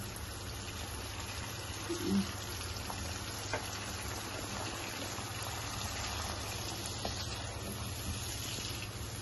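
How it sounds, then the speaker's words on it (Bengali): A blended mixture of yogurt, fried onion and tomato sizzles steadily in a pan while being sautéed for Nargisi kofta, a constant close frying hiss with faint stirring. "পুরাটাই দিয়ে আমি একটু ভালো মতো কষিয়ে নিব।"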